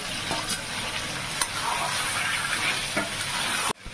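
Marinated meat sizzles loudly in hot oil over onions and a bay leaf, a steady bright frying hiss with a few stirring knocks, cut off abruptly just before the end.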